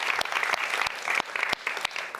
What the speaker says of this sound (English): Give a round of applause to all of the 3 teams.